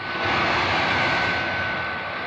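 Wonder Woman's plane flies on in a steady, loud aircraft engine roar that fills the whole moment as a continuous broadband drone with no voices.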